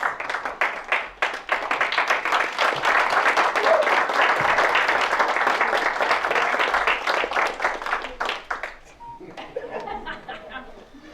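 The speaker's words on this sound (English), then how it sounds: "deserve a round of applause all of their own" A library audience at an evening storytelling event gives a sustained round of applause. The clapping swells, holds steady for several seconds, then thins to scattered claps, and a brief voice follows at the end.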